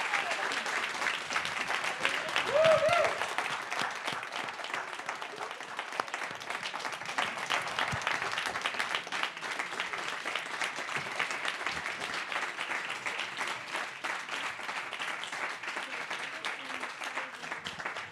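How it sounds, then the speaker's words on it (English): A live audience at a county civics bee in Wayne County, Indiana applauds steadily and at length, a dense sustained clapping from a crowd filling the room. "One more round of applause for our judges, if you would, please."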